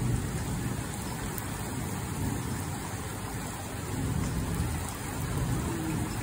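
Heavy rain in a thunderstorm pours down in a thick, unbroken roar, with a low rumbling undertone that swells slightly in places and no voices.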